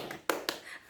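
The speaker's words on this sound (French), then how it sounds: "Ça s'applaudit." Two sharp hand claps ring out close and fairly quiet in a small room, a quick pair with a short gap, alone without talk.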